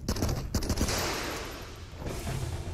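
Enemy machine gun fire in the arcade game APE OUT, a fast loud burst of rapid shots at the start, then a decaying rumble and a few more muffled bursts near the end.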